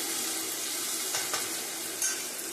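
Chilli chicken frying in a pan gives off a steady, close sizzle, with a couple of faint stirring scrapes rising briefly above the hiss.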